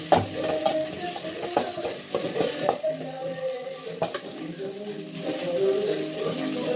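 Tomatoes sautéing with crushed ginger and garlic in a pan for egg curry, a steady close sizzle with repeated scraping stir strokes and light clinks of a spoon against the pan.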